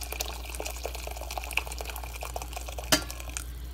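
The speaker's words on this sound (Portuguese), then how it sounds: "Coloco mais água até quase em cima da panela." Hot water poured into a pot of beef and vegetable soup, a soft steady liquid trickle and splash running throughout with small drips and one sharper splash near the end, close and moderately quiet.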